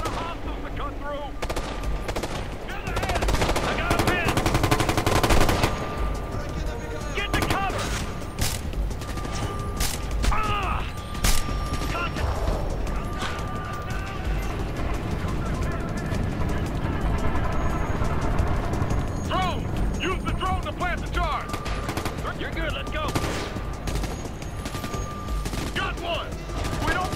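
Rapid machine-gun bursts and scattered single shots rattle on and off through a firefight in the Ghost Recon Future Soldier shooter game, dense and loud, with faint voices mixed underneath.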